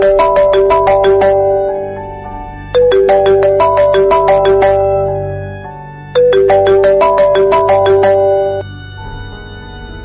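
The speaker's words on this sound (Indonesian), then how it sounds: "tiba-tiba ponsel Mike berdering" Mike's mobile phone rings with a loud, bright melodic ringtone, a rapid run of tones repeated in three bursts with short pauses between them, and no voices.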